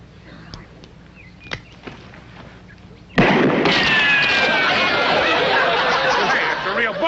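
A single loud gunshot cracks out in a 1970s comedy Western duel, its sharp blast giving way at once to a sustained wash of crowd laughter and chatter.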